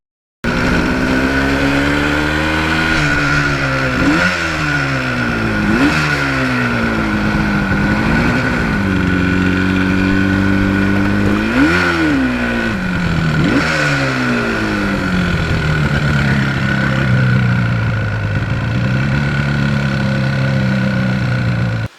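A 1977 Yamaha RD400 two-stroke motorcycle being ridden, its loud close engine rising and falling through repeated revs and gear changes over a steady buzzing drone, with no talk.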